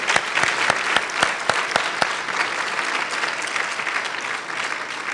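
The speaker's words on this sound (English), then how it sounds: "Let's give them one more round of applause." Sustained applause from a large audience at a gala dinner, dense and even, with a few sharper claps standing out near the start.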